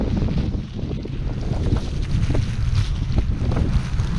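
Blizzard wind on Brighton Beach in New York, a steady loud roar and rumble buffeting the microphone with a noisy, gusty texture throughout and no voices.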